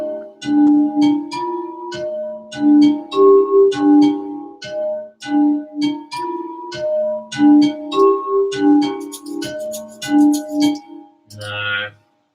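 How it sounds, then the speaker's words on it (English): A glass bell sample played as a melodic beat intro, bright chiming tones in a steady repeating rhythm with percussive ticks, ending on a short different sound. "the original glass bell sound by itself"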